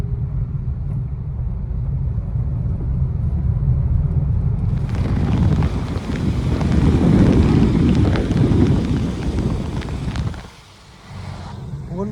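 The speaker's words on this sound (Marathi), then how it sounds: "फुल पाऊस गाईज, फुल पाऊस." Heavy rain drums steadily on a car driving through a monsoon downpour near Dahisar, a loud dense wash over low engine and road rumble that swells midway, then briefly drops away.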